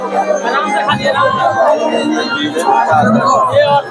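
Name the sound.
dense crowd at Durga Puja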